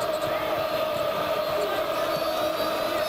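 Crowd noise at the Breslin Center during a Michigan State versus Michigan college basketball game, a steady, dense murmur and cheer of the arena audience holding at an even level throughout.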